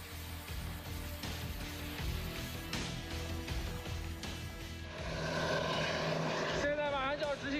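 An attack helicopter keeps its engine running on the ground after landing for hot rearming during a military exercise. A loud steady turbine roar and rotor drone continues, with people talking over it.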